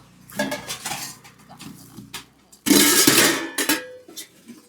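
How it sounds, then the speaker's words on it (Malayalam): Steel storage vessels clatter and clink as they are handled, with scattered knocks building to a loud, dense burst of metal-on-metal rattling near the middle, then a few sharp clinks. "സ്റ്റീൽ പാത്രാട്ടോ"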